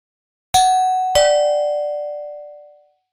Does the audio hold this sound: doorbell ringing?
yes